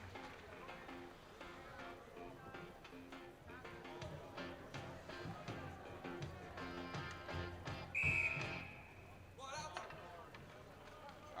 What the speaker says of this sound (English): another whistle